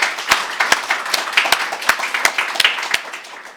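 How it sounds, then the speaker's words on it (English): A single person claps at an architecture colloquium, sharp, loud, evenly spaced hand claps, about eleven in a row, close up over a light room background. "This is my applause."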